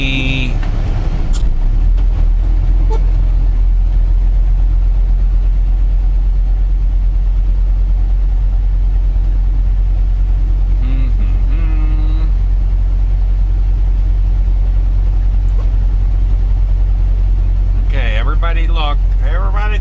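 A car engine idles in stopped traffic near an emergency scene with fire trucks and police cars, a loud steady low hum running throughout with brief faint voices and a few small knocks.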